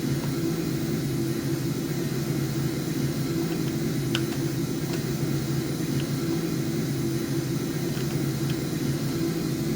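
Cockpit of an Alpha Jet in flight over the Space Coast: a steady, loud whooshing drone of engine and airflow holding constant throughout, with no talk.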